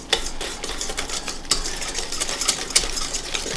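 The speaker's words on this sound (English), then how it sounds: "I'm going to give that a good stir." A spoon stirs rye flour into a loose, watery bread dough in a bowl, making quick close scrapes and sharp clinks against the sides at an uneven rhythm.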